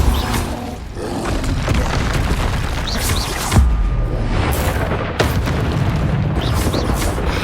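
Spell effects from the Hogwarts Legacy video game, with fire and blast spells such as Confringo, Incendio and Depulsor being cast: loud, continuous booming and roaring bursts that overlap densely, with a heavier impact about midway.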